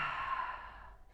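A single soft, audible exhale during a power yoga flow, a breathy sigh that fades out over about a second, close and quiet.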